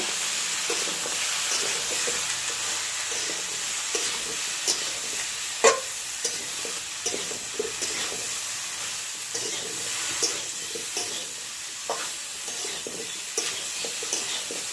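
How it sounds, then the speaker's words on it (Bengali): Turmeric, cumin and coriander powder with salt being stirred in a hot pan for a drumstick curry, a steady broad sizzle broken by soft scrapes and a few knocks of the spoon. "হলুদ গুঁড়ো জিরে গুঁড়ো ধনে গুঁড়ো নুন খুব ভালোভাবে মিশিয়ে নেব"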